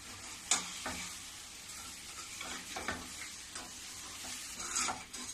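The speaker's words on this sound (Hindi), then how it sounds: "थोड़ी देर चला के मैं गैस को बंद कर दूंगी। और इसी प्रकार में थोड़ा ऊपर नीचे चलाते रहूंगी।" Watermelon rind sweet simmers in sugar syrup in a wok while a spoon stirs it, scraping and clicking at irregular intervals over a soft, continuous sizzle.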